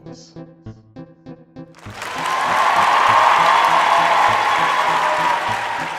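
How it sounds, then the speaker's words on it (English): Studio audience applause with some cheering, swelling in after a short musical sting and holding as a loud, dense wash of clapping until the end. "Wait for applause."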